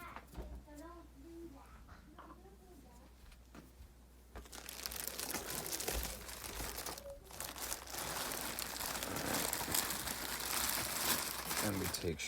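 Shredded paper rustles and crinkles for a worm bin, quiet at first beneath a soft voice, then turning into a loud, continuous crumpling as it is handled closely.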